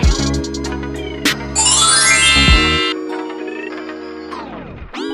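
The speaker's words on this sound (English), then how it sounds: "Doorbell." A loud electronic chime rings out in a sequence of bright, sustained tones, one sweeping up and down, then fading with a final short ding.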